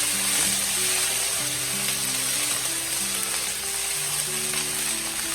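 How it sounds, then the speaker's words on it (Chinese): Bean sprouts stir-fried in a little oil in a wok over high heat, giving a steady, close, hissing sizzle throughout with a faint background tone and no talking. "开大火翻炒均匀，豆芽菜炒制的时间不需要太长。"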